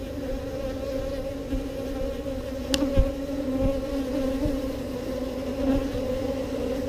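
Honeybees buzzing steadily at a hive in Texas, a continuous close drone with no voices, a brief sharper sound near the middle.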